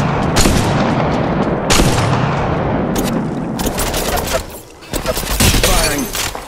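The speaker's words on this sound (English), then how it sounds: "Firing. Shots fired." Rapid gunfire in a squad-based shooter video game: dense, loud bursts of shots and booms fill the moment, with a brief lull near the end before firing picks up again.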